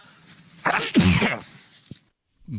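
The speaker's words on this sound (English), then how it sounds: "That was a great big greasy sneeze there." A loud, greasy sneeze bursts out close by, a sharp explosive blast with a wet tail, followed by a brief pause and the start of a voice.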